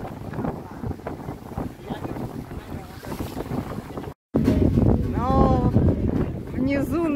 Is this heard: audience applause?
no